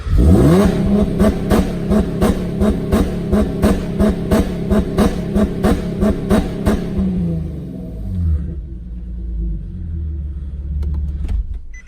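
Infiniti G37 engine held on a two-step launch limiter, firing rapid rhythmic pops and bangs over a loud rev for about seven seconds, then dropping to a low idle rumble.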